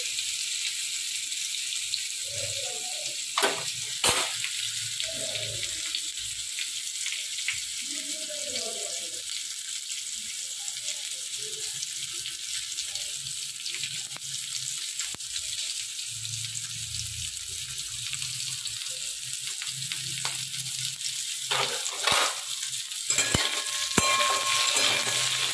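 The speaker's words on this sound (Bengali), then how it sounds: "হালকা করে পটলগুলো একটু লাল করে নেবো, খুব বেশি না, হালকা করে একটু লাল করে নেবো।" Pointed gourd (potol) frying lightly in a pan, a steady broadband sizzle throughout with intermittent scraping stirs and a few sharper clinks of the spatula, close and moderately loud with no talking.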